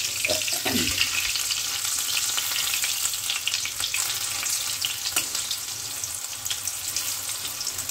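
Potato pieces fry in hot oil in a pan, making a loud, dense, steady sizzle throughout with a few soft scraping clicks close by.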